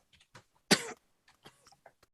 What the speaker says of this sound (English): Just coughing, sputtering, like he keeps going, like maybe he's not quite choking